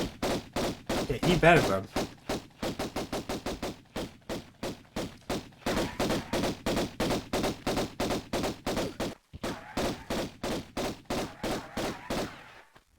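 Rapid bursts of gunfire from the video game Tomb Raider hammer out in fast, closely spaced volleys with short gaps between them, loud and near, with a brief spoken line mixed in.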